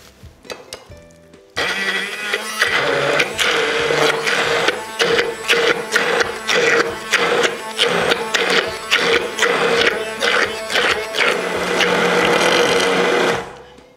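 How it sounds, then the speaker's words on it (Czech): A blender purees tuna mayonnaise sauce with olive oil, running loud and steady for about twelve seconds with pulsing surges, then stopping abruptly. "a rozmixuju."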